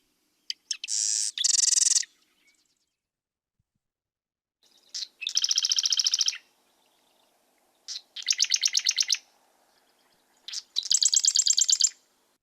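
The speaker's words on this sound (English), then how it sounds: "So here's West Coast marsh wren versus East Coast marsh wren." Marsh wren songs from the West Coast and the East Coast, heard as four separate bursts. Each burst is a rapid, buzzy, mechanical trill, and the bursts are broken by silent gaps. The singing is clear and close, with no voices.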